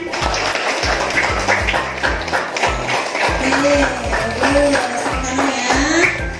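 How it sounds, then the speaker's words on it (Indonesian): Students applaud in a madrasah classroom after a group presentation, with loud, rhythmic clapping running throughout and voices heard underneath. "Ayo semuanya tepuk tangan."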